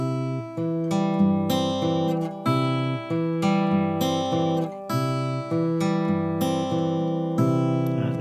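Close, clear guitar fingerpicking with a steady alternating bass under a melody of varied high notes, chords ringing and changing roughly every second, instrument heard alone without voices.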